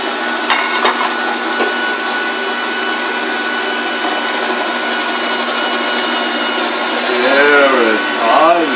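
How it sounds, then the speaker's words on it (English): Motor of a family grain mill's slicer shredder attachment running with a loud, steady droning whir close by, changing pitch near the end as food is fed in. "This is the slicer shredder. It slices. And we're going to turn on the motor."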